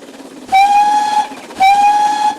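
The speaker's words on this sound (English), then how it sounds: "Around 8 a.m., the GWR train left." A departing GWR steam train sounds two long, loud whistle blasts, each lasting about three-quarters of a second with a short gap between them, over a low background rumble.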